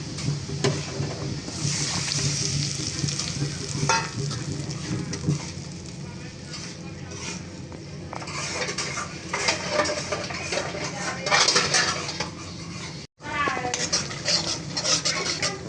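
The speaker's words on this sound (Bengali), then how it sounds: "আমার পেঁয়াজ আর রসুনটা কিন্তু ফ্রাই হয়ে গিয়েছে এই তো ভাজা ভাজা হয়ে গিয়েছে" Onion and garlic frying in a pan in a village kitchen: a continuous sizzle with the clatter and scrape of a spoon stirring against the pan, fairly soft overall, with a brief dropout near the end.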